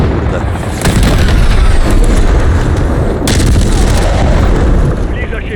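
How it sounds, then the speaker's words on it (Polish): Gunfire and explosions pound a helicopter in Call of Duty Modern Warfare III: dense, loud booms and rattling bursts run continuously, with a sharp blast partway through and no clear talk. "Śmigłowiec dostał, nieźle."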